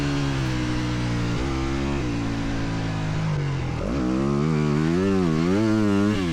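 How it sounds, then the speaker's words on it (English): A 2025 Yamaha YZ four-stroke dirt bike engine revs hard on a motocross track, a loud, close, continuous roar that climbs and falls in pitch through the gears, with wavering surges toward the end. "listen to that engine. Listen how happy this thing sounds on the moto track"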